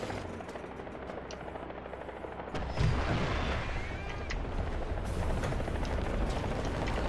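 A helicopter in the War Thunder video game, its rotor drone rumbling steadily and growing louder midway, mixed with distant battle noise and no talking.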